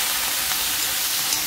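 Potatoes fry in a chilli tempering with a dense, loud, continuous sizzle and hiss, close and steady throughout without talk.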